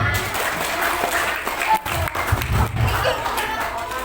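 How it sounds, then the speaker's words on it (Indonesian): A school audience at an Islamic motivational talk and magic show claps hands together in a dense, continuous patter, fairly loud, with voices in the background. "tepuk tangan dong"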